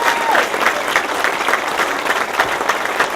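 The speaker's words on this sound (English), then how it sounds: "a round of applause for people with great courage" An audience at a groundbreaking ceremony for a veterans' home applauds in honor of people with great courage, a dense, steady wash of clapping that holds at an even level from start to finish.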